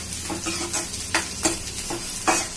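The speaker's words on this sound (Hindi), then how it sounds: "थोड़ा ऐसे भून लेने का," Garlic frying in a pan for Schezwan fried rice, a close sizzle punctuated by several sharp spatula scrapes and stirs at an uneven rhythm, with no talking.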